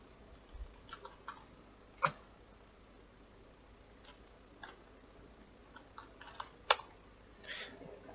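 Keystrokes on a computer keyboard as a command is typed into a Windows command prompt: sparse, separate clicks, with a few sharper taps standing out, quiet and close in a still room.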